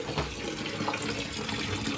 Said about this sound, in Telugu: ఇట్లా గిన్నెలో వాటర్ పోసి